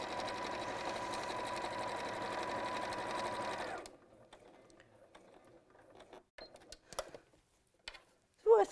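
Sewing machine running a long stitch along fabric, an even rapid whirring clatter for several seconds that cuts off, leaving quiet taps and a brief voice near the end.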